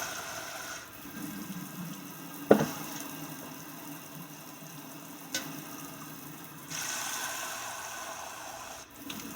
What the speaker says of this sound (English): Now I'm going to put some water in it.